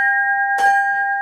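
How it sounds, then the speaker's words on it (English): A replica of the Liberty Bell from Philadelphia rings in a room: two steady, sustained bell tones hum throughout, with a brief broadband strike partway through. "this bell is a replica of the Liberty Bell in Philadelphia"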